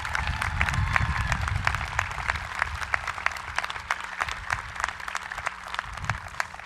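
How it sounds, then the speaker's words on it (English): Quiet, scattered applause from a high school commencement crowd, a thin patter of claps at some distance with a low murmur underneath. "Can we please give another round of applause to these brave men and women?"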